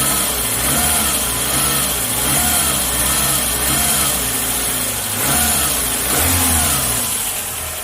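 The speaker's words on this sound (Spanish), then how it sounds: "ahí ya prendió esta bendición de motor" A Renault Logan engine runs steadily near at hand after an oil filter change, with smooth revving swells rising and falling over a continuous low idle rumble; no one speaks.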